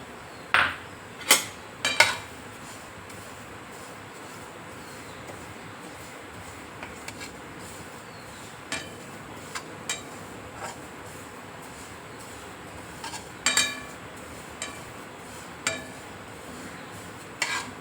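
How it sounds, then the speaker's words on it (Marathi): Sesame seeds dry-roasting in a pan for a traditional Marathwada modak bhaji filling, heard as a quiet steady hiss broken by sharp spatula scrapes and clinks against the metal, with no one speaking. "साहित्य तीळ भाजून घेते"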